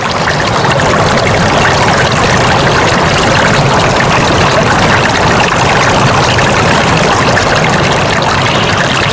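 A flowing river stream used as a radio drama sound effect, a loud, steady broadband rushing of water running continuously without a break.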